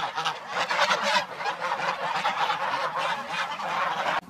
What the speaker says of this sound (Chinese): 看见大鹅嗷嗷叫，